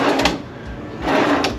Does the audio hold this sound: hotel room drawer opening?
yes